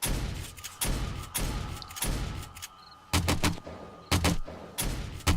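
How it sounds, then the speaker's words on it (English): AK rifle gunfire in the video game 7 Days to Die during a horde night, loud close shots fired one at a time in uneven bursts with short gaps between. "I try to aim and put one bullet after another"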